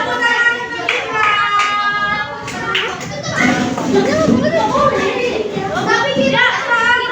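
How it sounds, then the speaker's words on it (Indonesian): Children clapping and cheering in a classroom after a quiz answer, a busy burst of overlapping hand claps mixed with excited young voices that carries on steadily throughout. "Tepuk tangan untuk kita."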